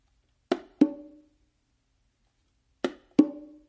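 Four sharp hand strokes on bongos in the martillo pattern, a thumb, slap and finger tap leading to a ringing open tone on the hembra, heard as two close pairs separated by a pause, played alone.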